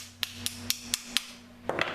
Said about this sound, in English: Now the front pin always takes a little more effort, so we're going to take our polymer hammer